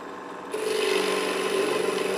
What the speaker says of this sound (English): I let the cutting edge touch the wood before I touched the bevel to the wood